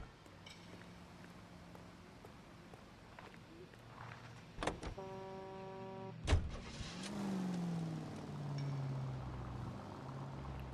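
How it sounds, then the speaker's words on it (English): A Buick car in the L.A. Noire video game, quiet idling hum, then a door clunk and an engine starting that settles into a soft steady drive, faint and low throughout. "Got a lovely car to drive as well. It's a Buick"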